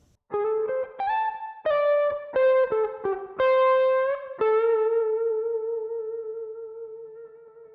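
Slow, deliberate distorted electric guitar notes of a minor pentatonic lick, several bent and held, ending in a long sustained tone that gradually decays.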